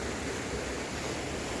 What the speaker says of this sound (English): look at that beautiful stream.